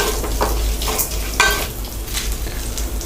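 Spices and curry leaves sizzle in hot oil for moong dal sambar, a constant crackling fry with sharper pops and spatters now and then as the pan is stirred, close and alone.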